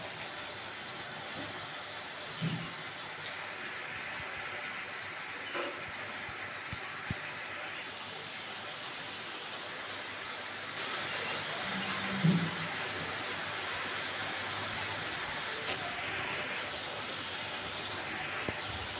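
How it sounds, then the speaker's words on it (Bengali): Ginger, garlic and onion fry in a pan for a Bengali chicken curry, giving a steady soft sizzle and hiss with a few faint pops and no talking. "আমি এখন কষছি, কষা হোক।"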